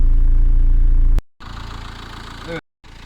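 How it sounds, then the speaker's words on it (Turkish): A Fiat Doblo engine idles steadily with a low droning hum after an antifreeze refill, cutting out briefly twice before resuming. "Devir çalışmaya başladı."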